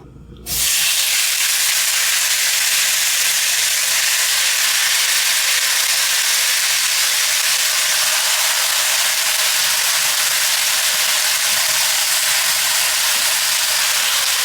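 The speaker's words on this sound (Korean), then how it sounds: "그리고 고기를 넣어줍니다. 그런데 불은 센 불입니다." Pork hits a hot oiled frying pan over high heat and bursts into loud, steady sizzling that holds continuously after a brief quiet start, close and without talk.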